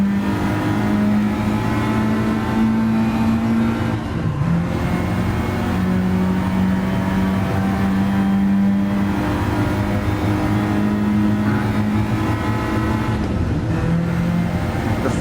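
Citroen DS3 racing car in Gran Turismo Sport, its engine droning steadily and rising through the gears, loud and continuous for the whole stretch with no talk.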